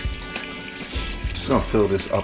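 Purified water from a Melody water ionizer's filter runs into a container, filled to about half a gallon for making sweet tea for kombucha, a soft steady trickle heard under a person talking.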